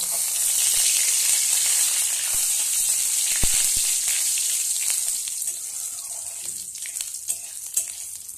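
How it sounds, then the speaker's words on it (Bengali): Panch phoron spices sizzling in raw oil in a home kitchen pan, a steady bright hiss that holds loud for about five seconds, then thins into softer crackles and pops. "দেখো কাঁচা তেলে কিন্তু পাঁচফোড়নটি দিয়ে দিবে, বুঝলে?"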